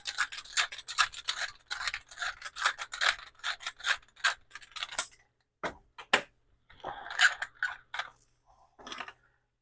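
Salt and pepper ground from a hand grinder onto crawfish etouffee, a run of close, dry rasping crunches in quick bursts that pause briefly and then resume.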